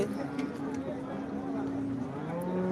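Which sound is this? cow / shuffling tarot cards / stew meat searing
cow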